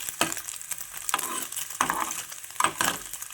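Paneer cubes being browned for paneer biryani are gently stirred in a sizzling pan, with a steady fry hiss broken by periodic scraping strokes of the spatula, close up.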